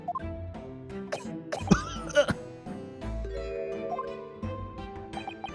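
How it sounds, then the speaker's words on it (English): Coughing from a character in the video game The Great Ace Attorney, several short harsh bursts over a bed of steady game background music, moderately loud and close. "You seem to be coughing up some"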